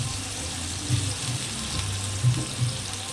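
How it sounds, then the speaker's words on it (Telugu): Tomato pieces and green chilies fry in hot oil, giving a steady soft hiss with a few faint bubbling pops. "టమాటో ముక్కలు బాగా ఆయిల్లో ఫ్రై అయ్యాక పచ్చిమిర్చిని యాడ్ చేయండి"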